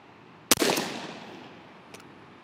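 A Mossberg SA-28 28 gauge semi-auto shotgun fitted with a Trulock choke fires one Boss Tom shell outdoors: a single sharp report with a trailing echo, then a faint click.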